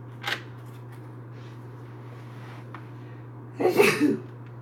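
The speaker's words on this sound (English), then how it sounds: "sneeze." A single loud, close human sneeze bursts out near the end, preceded by a short breathy intake, over a steady low electrical hum.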